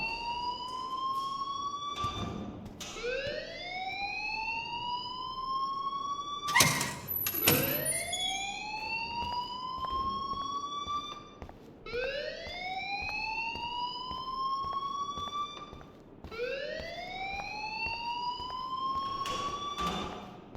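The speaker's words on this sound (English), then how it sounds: "please turn off that alarm since that's your job" An alarm keeps ringing at a school in the video game Life is Strange, with a repeating rising wail that cycles steadily, broken by a brief sharp burst of other noise partway through.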